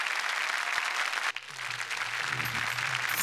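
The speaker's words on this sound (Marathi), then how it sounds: "जोरदार टाळ्या झाल्या पाहिजेत बुवांसाठी" Loud, dense applause from a studio audience at a Marathi comedy show, steady clapping throughout with a brief dip partway, then a low voice or tone entering under the clapping.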